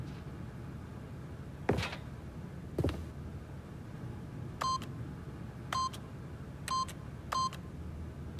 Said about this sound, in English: he didn't notice the keypad behind the boss's desk